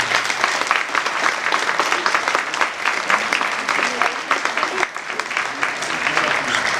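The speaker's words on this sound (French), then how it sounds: "Merci d'applaudir Gao Ning." An audience applauds table tennis player Gao Ning at a presentation in Franche-Comté, a dense, loud, sustained round of clapping from a large crowd, with a few voices mixed in.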